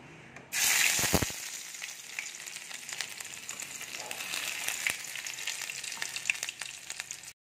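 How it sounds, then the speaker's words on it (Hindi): Onions hit hot oil in a frying pan for masoor dal with a sharp initial crackle, then settle into a steady close sizzle that keeps going for several seconds, with no voices. "अब हम इसमें प्याज ऐड कर देंगे।"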